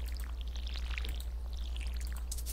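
Watering can splashing water onto crops in the Stardew Valley video game, a steady soft pouring hiss lasting a couple of seconds over a low constant hum, with no talk.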